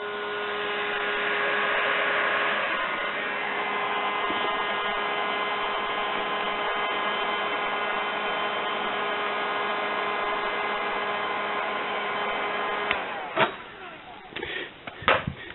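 A homemade heat gun jig blows hot air upward in a steady, close, humming whoosh that runs continuously, then stops and gives way to a few handling knocks and clatters.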